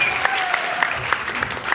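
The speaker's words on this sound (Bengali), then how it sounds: "সবাই জোরে করে তালি দাও" A studio audience claps together at a talk show honouring actor Afran Nisho's national film award, a steady dense patter of hands with a few sharper individual claps rising above it.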